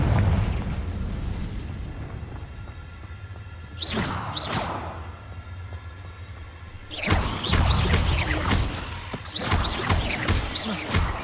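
Confringo spell blasts in Hogwarts Legacy: several loud fiery explosions with whooshing bursts, a pair near the middle and a cluster toward the end, over a low rumbling background.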